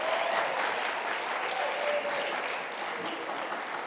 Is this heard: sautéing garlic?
no